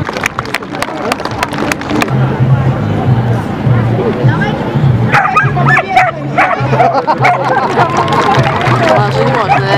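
German shepherd dogs yip and bark repeatedly at a dog training show demonstration, close and loud over a steady crowd babble and a low hum.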